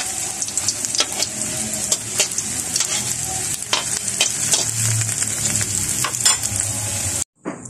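Alugbati spinach leaves in batter coating deep frying in hot oil, a loud, dense, crackling sizzle with occasional stirring clinks, cutting off abruptly at the end.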